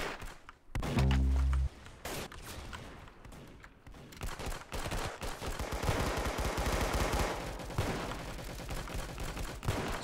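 Gunfire in the online shooter Arsenal: one heavy booming shot, then sharp rapid bursts and a dense, continuous rattle of automatic fire with thuds mixed in, loud and close.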